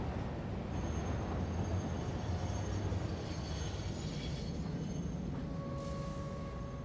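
A train runs along its track in the factory-building game Satisfactory, a steady, loud rumbling roll of wheels on rail with a faint high squeal and a sustained tone near the end, with no one talking.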